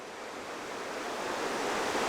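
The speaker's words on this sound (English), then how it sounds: "The stream here comes right out of the rock." Steady rushing water of a stream flowing straight out of rock beneath a natural bridge, a continuous broadband wash close by with no voices.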